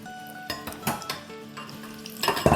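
Potato chutney cutlets fry in a pan with a soft sizzle, broken by several sharp clinks and scrapes of a utensil against the metal, close and moderately loud.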